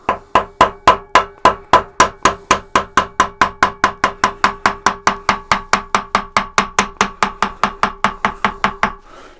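A spindle nut on an Axminster AT406WL wood lathe is gently tapped round, about forty sharp, ringing metallic knocks in a steady, even rhythm, close and clear with no talking.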